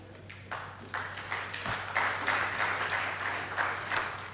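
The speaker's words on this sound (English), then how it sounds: "A round of applause." Conference audience applauding at a renewable energy event in Kenya, steady broadband clapping that starts thin and swells into a fuller, sustained round over a faint low hum.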